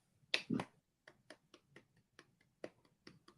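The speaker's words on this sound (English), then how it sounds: "the reason why I'm clapping, and this is not a golf clap, I just don't want to clap too loud" One person claps softly and deliberately, a few light, evenly spaced claps after two closer ones, quiet and unhurried in an indoor podcast setting, with no talk over them.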